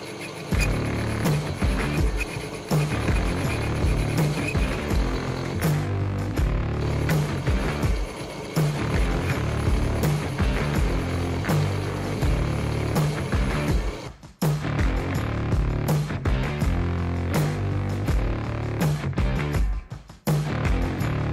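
A chain drive differential spins on a lathe as its bearing surface is machined down, with the spider gears clamped tight, producing a loud, steady mechanical whir and chatter that briefly dips twice.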